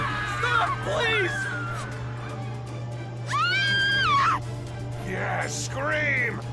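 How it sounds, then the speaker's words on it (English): In a video game, several characters scream and cry out in fear as they flee, high wavering shrieks arriving in three separate bursts over a steady low background hum. "Yeah, scream! Run away!"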